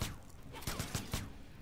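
Rapid bursts of machine gun fire in Mortal Kombat X pop in quick succession against a dense, noisy background, fairly faint overall.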